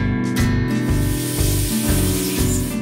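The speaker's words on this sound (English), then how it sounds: "we're milling the XL version out of solid blocks of aircraft-grade aluminum, over at one of our state-of-the-art CNC machines" A CNC machine mills a solid block of aircraft-grade aluminum, giving a loud, steady machining roar with a hissing spray layered over a rhythmic low pulsing drone.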